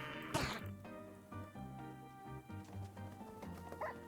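A dog in Minecraft lets out a sharp bark near the start and a softer yip near the end, over steady game music that runs throughout.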